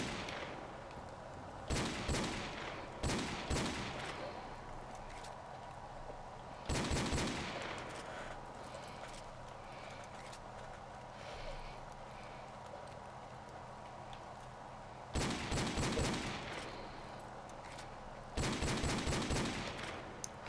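Bursts of gunfire in Call of Duty: Modern Warfare Remastered prop hunt, shots aimed at a possible prop: several separate rapid volleys spread out over the stretch, with quiet gaps between them.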